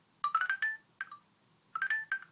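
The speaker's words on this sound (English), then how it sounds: "Nice phone there, nice ring there." A smartphone ringtone plays alone in two short melodic bursts separated by a pause, clear, close and fairly loud.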